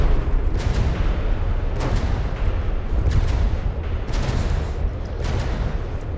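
Heavy naval gunfire from a warship salvo in a naval combat video game, a dense, loud barrage of overlapping booms and blasts rolling continuously with repeated sharper reports.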